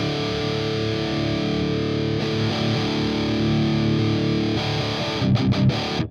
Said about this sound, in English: I'm going to turn on one of the stomp pedals just to get us going